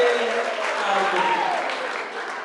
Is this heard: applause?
yes